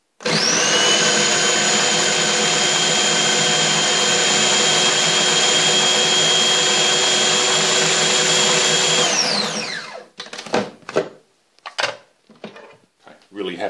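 A food processor or electric chopper whirs steadily while it chops capsicum, parsley, tomato and onion for a Turkish kiymali pide filling. The motor runs loud and continuous for about nine seconds, then spins down, followed by a few short clattering knocks.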